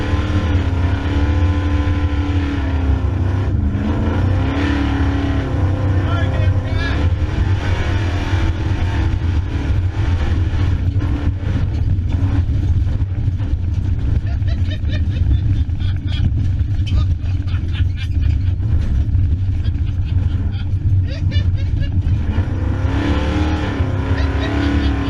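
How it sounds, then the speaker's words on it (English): A muscle truck drives hard with repeated engine revving and roaring acceleration, loud and close, alongside a constant rumbling drone, with some voices heard over the engine. "Watch him in the muscle truck."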